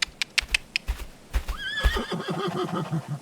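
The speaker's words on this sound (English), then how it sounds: "Suddenly, an indigo-colored horse was at Mia Lily's side, licking her face." A horse whinnies with a rising, wavering neigh after a few sharp hoof-like knocks, then snorts and breathes close by, loud and with no talk over it.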